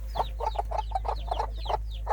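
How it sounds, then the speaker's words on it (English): Quick, soft clucking from chickens in a rapid series of short calls over a low steady hum. "This is the chickens."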